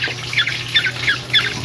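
Squawks from a young pet oriole (kilyawan) being hand-fed, in three or four short harsh bursts evenly spaced over a steady low hum.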